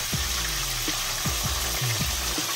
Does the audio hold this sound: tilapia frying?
yes